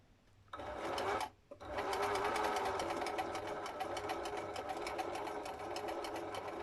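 Sewing machine stitching in a continuous, close buzz with a rapid needle rhythm, briefly stopping once near the start and then resuming steadily.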